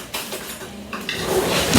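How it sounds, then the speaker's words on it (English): Metal cutlery clinks and rattles as a fork is pulled from a drawer in a home kitchen while penne alla vodka cooks, a few short close clatters building toward a louder scrape at the end. "Let me get a fork to turn it over with."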